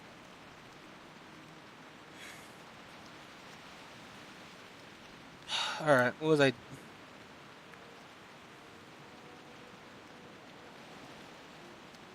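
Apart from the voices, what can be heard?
rain in World of Warcraft video game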